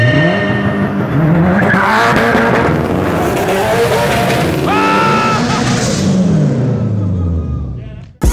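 A turbo Subaru launching at a drag race start, with loud engine revving and roaring, tire squeal and rising pitch as the car pulls away, close and dominant throughout before cutting off abruptly at the end.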